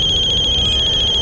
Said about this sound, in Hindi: अरे समदन जी का फोन है।